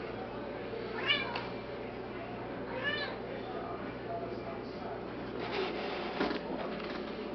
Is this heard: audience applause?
no